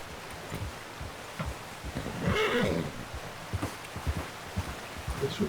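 A horse in Red Dead Redemption 2 gives a clear whinny around the middle, with soft hoof clops and light outdoor wind around it.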